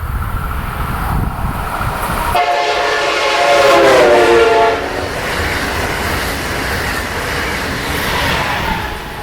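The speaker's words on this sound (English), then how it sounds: "So once again, we have a horn that appears or seems to change its sound." A passing train sounds its horn; the loud harmonic blast slides downward in pitch as the train goes by, set against steady rail rumble and clatter.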